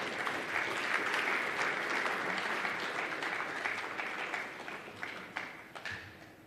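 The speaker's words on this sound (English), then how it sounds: "Another round of applause, ladies and gentlemen, for Dr. Frank." Sustained audience applause after a speech at the Merck Foundation Africa Asia Luminary summit: a steady, full wall of clapping that holds for several seconds and thins out toward the end, with a few sharper claps standing out.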